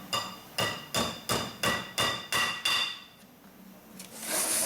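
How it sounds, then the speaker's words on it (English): A brass hammer strikes a steel pin during flywheel reconditioning work: about seven sharp, evenly spaced metallic blows ringing close up, followed by a quieter stretch with faint shop noise. "You just always got to use a brass hammer."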